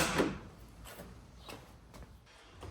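Door latch on a 1952 Willys pickup clicking and clunking open, a few faint close mechanical knocks spread across a quiet background, with no talking.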